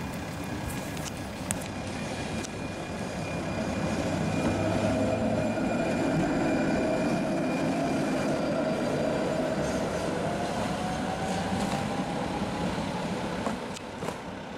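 A T3 tram in Liberec rumbles past on its rails, a steady rolling roar that swells through the middle and eases off, with a faint wheel squeal toward the end.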